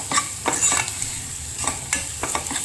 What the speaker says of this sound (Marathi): हे सगळं घालून आपल्याला व्यवस्थित मसाला तेलावर शिजवून घ्यायचा